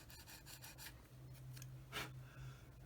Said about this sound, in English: Then I'll use my little skinny sanding stick here